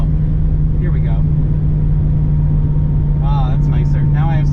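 Heavy, continuous drone of an LSA V8 swapped into an Infiniti G35 heard from inside the car, steady and loud, with someone talking over it.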